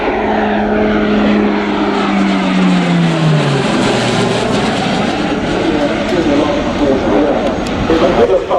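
Display aircraft on final approach with gear down at the RIAT 2025 airshow, its loud engine sweeping past in a falling pitch and then rumbling on as it recedes, with a commentator talking over it.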